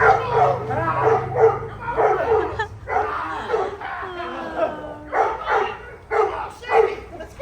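Several dogs barking, yipping and whining excitedly near a pool, with repeated close, loud bursts and high whimpers, mixed with a person calling to them.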